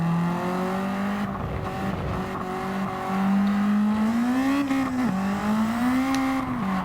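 Car in Gran Turismo 7 surging under nitrous boost, a steady loud engine tone rising and falling in pitch as it accelerates, continuous and close throughout.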